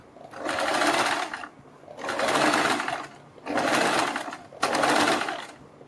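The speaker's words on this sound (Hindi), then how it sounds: "बीच में सिलाई लगाने के बाद हम बुकरम के बिल्कुल बराबर में पूरे गले के ऊपर सिलाई लगाएंगे।" Sewing machine stitching along a dress or kurti neckline reinforced with buckram, four steady runs of rapid whirring stitches separated by brief pauses, close and clear.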